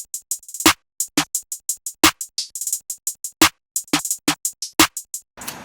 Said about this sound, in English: And then you add on the clap and the snare.